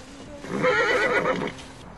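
A horse gives a single loud, quavering whinny that rises and falls over about a second, close by with no talk over it.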